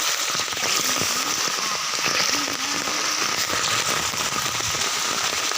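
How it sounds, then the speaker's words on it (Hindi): Heavy rain pours steadily during a flood that has filled the road and reached a house, a dense, loud hiss without pause and a few faint scattered sounds underneath. "और बारिश गिर रहा है"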